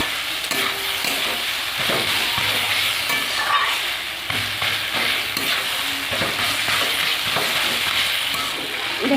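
Small fish and vegetables fry in a pan with a continuous close sizzle, punctuated by repeated scraping clinks as the food is stirred and turned.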